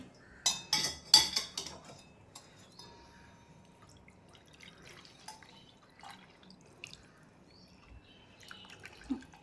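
Quiet dripping and trickling of jaggery syrup being strained into a metal vessel, with scattered clinks of utensils against the pot.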